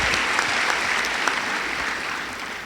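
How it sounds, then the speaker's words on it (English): Steady, dense applause fills a large hall at a high school graduation ceremony, a broad wash of many hands clapping at an even level from start to finish. "Definitely deserve a round of applause."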